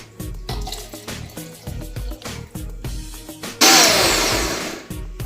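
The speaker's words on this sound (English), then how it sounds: "So guys, now I will add milk." Milk is poured into a banana shake, a gurgling liquid splash that swells suddenly to a loud rush near the end, following a run of rhythmic knocking and mechanical clatter close by.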